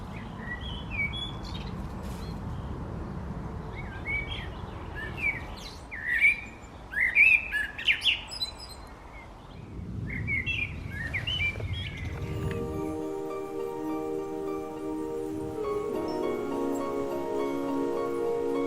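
Small birds chirp and tweet in quick, scattered bursts around a seed feeder in a quiet Finnish forest. The calls sound moderately close against soft background hush, and a brighter tonal hum takes over near the end.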